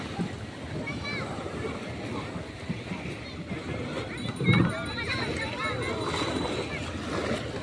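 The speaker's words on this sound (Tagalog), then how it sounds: "Hoy, lalaki ng alon." Large waves slap and splash around a small boat at sea, a continuous rough wash with one heavier thump, under excited voices talking and shouting.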